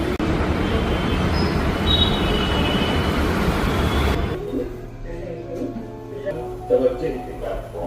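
A metro train at Kukatpally station in Hyderabad roars loudly and steadily for about four seconds, then the noise drops away abruptly to quieter platform ambience with faint scattered sounds.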